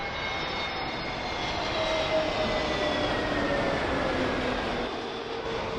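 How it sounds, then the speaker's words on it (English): British Airways Airbus A321neo arriving at Heathrow on runway 27L, its engine roar steady and fairly loud overhead, with a slowly falling whine across the whole pass and no voices. "this arrival is British Airways A321neo in from Venice"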